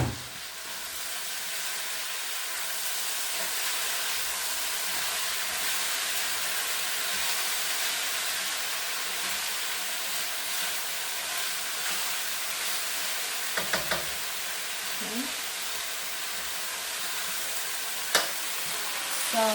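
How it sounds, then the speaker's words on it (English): Potato slices, shredded for a hot and sour dish, fry in a garlicky pan, giving a steady broad sizzle that holds throughout at close range, with a few brief clinks and stirring scrapes near the end and no talk. "now I'm going to drop my potato slices in the pot, in the pan"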